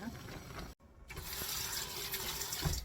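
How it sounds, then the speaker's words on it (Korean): Cold water runs steadily from a kitchen tap over boiled chwinamul greens being rinsed, a continuous close splashing wash broken by one brief dropout. "찬물로 이제 깨끗이 씻으면서 헹굴 거예요"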